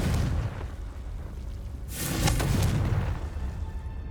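Confringo fire spell going off in Hogwarts Legacy, a loud rumbling blast that swells midway over steady heavy game noise and keeps roaring until it ends.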